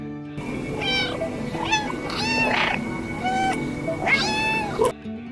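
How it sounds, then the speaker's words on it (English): Repeated cat meows from the game Stray, several clear mewing calls spaced across the stretch over a steady low background drone of game ambience, close and fairly loud. "There's even a dedicated button for meowing."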